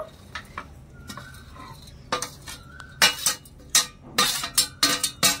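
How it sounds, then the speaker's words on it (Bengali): Fried sitabhog sweets are stirred through sugar syrup in a metal pot. Spoon scrapes and clinks start sparse and light, then turn into a quicker run of loud, close clattering strokes, with no one speaking. "ভালো করে নেড়ে চেড়ে মিশিয়ে নেব"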